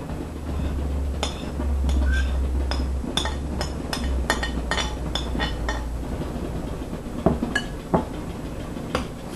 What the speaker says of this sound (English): Stir it up well.